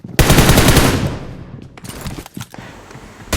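Rapid automatic gunfire from the BGMI battle royale game: a dense, loud burst of shots starts at once, then thins into a few scattered, fainter bursts and single cracks.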